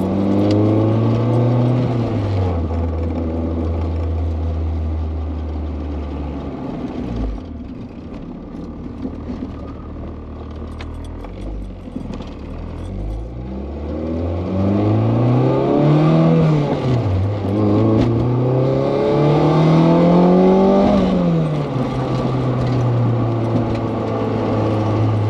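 A car engine is revved to about 4,000 RPM in fourth gear. It starts as a steady hum, drops back, then climbs and falls in several smooth rising and falling rev sweeps, loud and close throughout.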